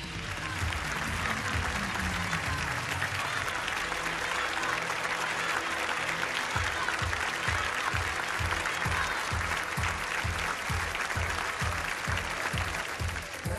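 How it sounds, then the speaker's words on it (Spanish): An arena crowd at a AAA lucha libre event gives a sustained minute of applause in tribute to Antonio Peña, dense loud clapping filling the space with a rhythmic thumping beat emerging in the middle and continuing to the end. "Un minuto de aplausos. Escuchen ustedes."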